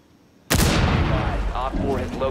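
A loud burst of gunfire erupts suddenly in Rainbow Six Siege on the Kanal map during a team deathmatch bomb round, followed by sustained shooting and clattering action with voices talking over it.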